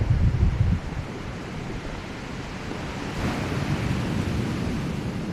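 Surf washing onto the shore of a beachfront property suited to surfing, a steady close roar of breaking waves with a louder burst at the very start, no voices.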